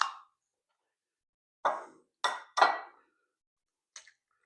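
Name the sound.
eggs dropped into a bowl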